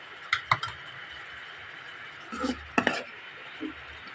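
Seasoned sotanghon noodles are tossed and mixed in a cooking pot, making a few scattered clinks and scraping stirs against metal with quiet gaps between them.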